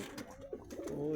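Pigeons in a loft of Madrasi, Andhra, Giribaz and Shahjahanpuri breeds coo softly, a brief low warbling call rising at the end, faint and close with some background murmur.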